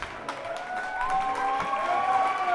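A baseball crowd applauds a player at a Canberra Cavalry home game against the Auckland Tuatara, a steady spread-out patter of clapping heard from a distance with a faint tonal hum running beneath it.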